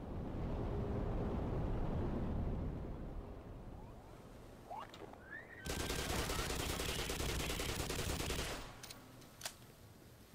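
Gunfire in Black Mesa: Definitive Edition, a sustained loud rattling burst of shots following a low rumbling stretch, with a few sharp single cracks afterward.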